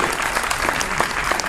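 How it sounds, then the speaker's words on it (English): A crowd claps steadily, with dense, loud applause continuing throughout the short stretch. "Give yourself a round of applause for real."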